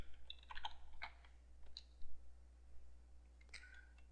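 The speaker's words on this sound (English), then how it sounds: "So I can go back here and type in free." Keyboard typing while entering a search term for free themes on a computer, a few scattered quiet key clicks over several seconds, close and faint, with no talking.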